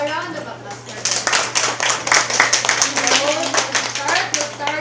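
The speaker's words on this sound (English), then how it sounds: "a round of applause for them" Applause from a small group, a crisp burst of clapping that starts suddenly and continues steadily, with voices chattering faintly underneath.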